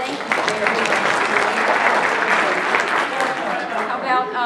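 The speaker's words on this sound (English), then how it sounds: "Let's give them a round of applause." Audience applause fills a conference opening session, dense sustained clapping at close range running steadily throughout with a faint murmur of voices mixed in.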